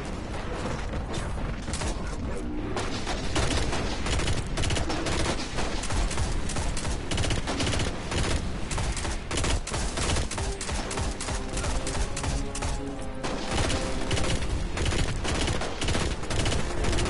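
Sustained covering gunfire in the sci-fi shooter Destiny, played on PS4, pours out as a loud, continuous barrage of rapid shots and mechanical clatter with no pauses.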